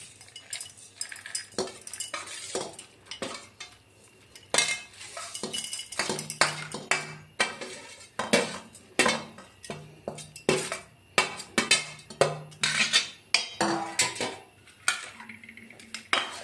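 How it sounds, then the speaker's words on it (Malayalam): A spoon clinks and scrapes repeatedly as roasted brinjal chammanthi ingredients go into a mixer jar, a close, irregular run of metallic taps and knocks with no talking. "ഇനി നമുക്കിത് എല്ലാം കൂടി ഒരു മിക്സി ജാറിലേക്ക് ഇട്ട് കൊടുക്കാം"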